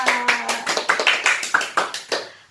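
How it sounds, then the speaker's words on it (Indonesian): Classroom applause at the end of a student's turn in a lesson: a brief burst of brisk, uneven hand clapping from a small group, about a dozen sharp claps close by that fade out at the end. "Berikan tepuk tangan untuk Najwa."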